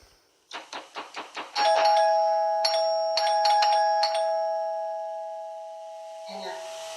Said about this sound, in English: She must have been ringing the doorbell for 10 minutes